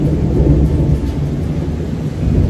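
Heavy rain with low rumbling thunder pours steadily and loudly, a dense continuous wash of rainfall underneath deep rolling thunder, with no talking.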